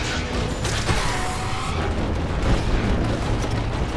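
In the video game Transistor, a timed explosive detonates amid a loud, continuous wash of rumbling booms and mechanical noise that rolls on without a clear break.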